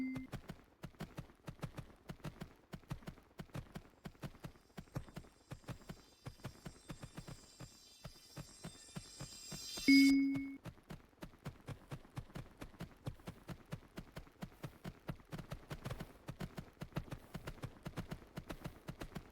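A horse named Pepper in the video game Horse Isle 3 runs with a rapid, steady beat of hoofbeats throughout, interrupted once by a brief bright chime in the middle.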